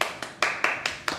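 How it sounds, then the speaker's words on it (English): Short burst of applause greeting the opening of a bourbon on a talk show, with several distinct clap-like surges over about a second, moderately loud and free of speech. "the bourbon gets the applause"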